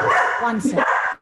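A dog barks and yips loudly and close by as a dog walker arrives at a home, the barks running together in a short burst with a voice speaking over them.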